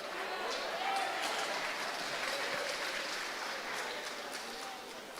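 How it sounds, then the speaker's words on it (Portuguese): A church congregation claps continuously, a broad wash of hand claps with a faint crowd murmur underneath, holding steady throughout. "Eu gosto das palmas,"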